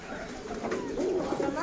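Pigeons coo as they come in to eat, low throaty burbling calls close by, repeated softly with faint background noise.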